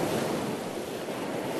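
Turbulent sea currents churning in the Golden Gate strait, where fresh bay water meets salty Pacific water; a loud, steady wash of surging water with wind rushing across the microphone, continuous and close.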